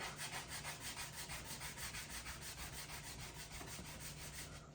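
Rust is rubbed off a snowboard's edge with a 240 grit stone, giving a close, rhythmic back-and-forth scraping, about five strokes a second, steady and quiet with no speech.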